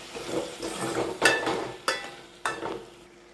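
Vegetables sautéing in oil for a village-style dried stingray fish curry, a soft steady sizzle with a few sharp clinks of a spoon against the pan, no voices.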